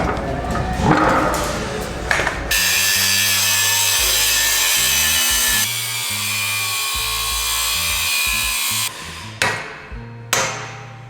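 A power saw cutting off the old steel axle mounts on a 1988 Jeep Wrangler YJ, a loud continuous grinding whine with a steady drone that shifts pitch partway through, then short bursts and stops near the end.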